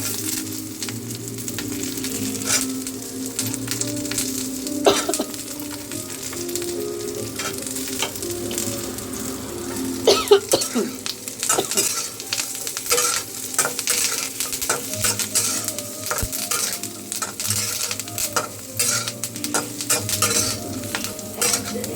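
Coconut pieces fry in hot oil for a chutney, a steady sizzle broken by repeated spoon scrapes and clinks against the pan as they are stirred, close and fairly loud.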